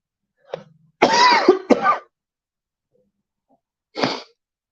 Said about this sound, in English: sneezing, coughing, kind of like this.